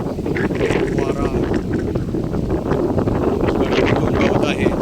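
Strong wind buffets the microphone in a steady, loud roar while trekking up Torna fort in the Sahyadri hills, with no other clear sounds.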